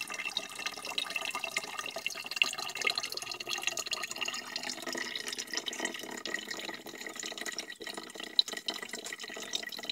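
Green coolant water pours out of a Yamaha Vixion motorcycle radiator once the top cap is opened, a steady soft trickling and splashing that runs on without a break.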